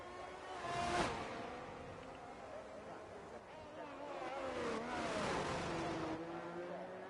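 A Ferrari race car in a racing video game drives down the Kemmel Straight towards Les Combes, its engine droning and rising in pitch as it accelerates, while a commentator talks over it.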